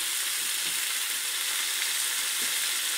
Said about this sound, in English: so I'm going to lower the temperature and just let it simmer away until it's ready